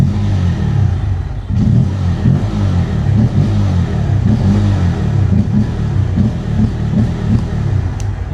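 Bajaj Pulsar N160 motorcycle with an underbelly exhaust, revved up close. Its deep throbbing engine note swells and drops through repeated throttle blips over about eight seconds, with no speech.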